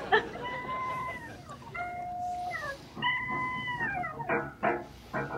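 Dog howling and yelping in a movie scene, several drawn-out rising and falling howls followed by short sharp yips, fairly close and loud, with a few brief voices mixed in.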